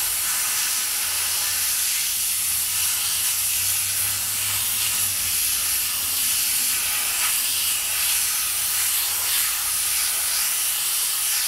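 Steady, close, loud hiss of a spray gun painting a Kawasaki motorcycle wheel, continuous throughout with no pauses and no voices.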